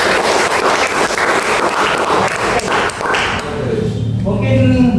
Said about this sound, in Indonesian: Baik sekali, kita berikan aplaus.